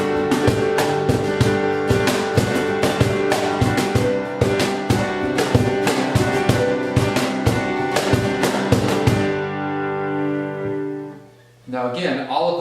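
Worship band playing together with acoustic guitar and cajon, strummed chords over steady percussive hits, full and loud for about nine seconds before decaying, then a voice speaks briefly.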